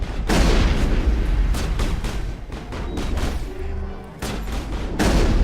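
Gunfire in the video game Mass Effect, a dense barrage of loud, rapid shots and booming blasts that continues in bursts across the whole stretch.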